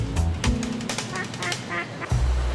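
Ducks honk and quack in a short burst of nasal calls, close and fairly loud, with a couple of louder honks at the start and end over a busy background.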